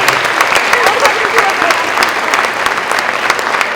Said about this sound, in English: let's give another round of applause to these students and all of our performers this evening